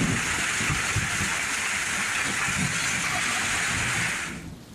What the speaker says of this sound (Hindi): मरी में मौसलाधार बारिश के साथ ज़ालाबारी हुई है।